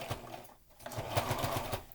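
A sewing machine stitches a fabric care mask cover, a close rapid chattering run of needle strokes starting after a short pause and a soft handling noise, no talk.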